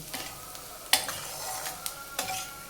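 Chili powder fries in hot oil for a quick kurdai bhaji, a soft continuous sizzle broken by several crisp spatula clinks against the pan.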